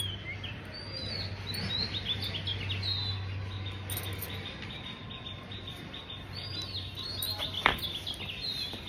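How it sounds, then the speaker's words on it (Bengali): Birds chirp and tweet outdoors from a rooftop in the late afternoon, with many short, bright calls scattered over a low steady hum and a faint insect drone, moderately distant and gentle. "এই ব্যাকগ্রাউন্ডের সাউন্ডটা দেখো কি সুন্দর, পাখিগুলো ডাকতেছিল"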